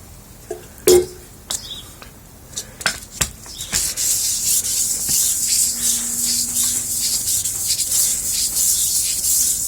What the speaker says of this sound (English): finer sandpaper, which in this case would be a 1200 grit, and let's see if we can get some polishing done on it.